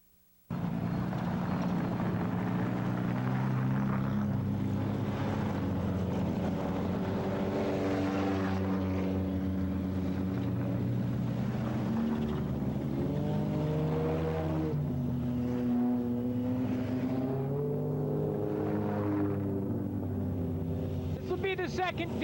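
Race cars on the final lap of a 2003 AMEC race, including a Golf, roar past in a steady, loud engine drone with rising and falling pitch sweeps as cars pass close by.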